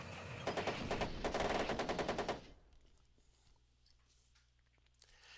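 Rapid machine gun bursts fire up close and loud in the Armoured Commander II tank game for about two seconds, then give way to a low, quiet rumble.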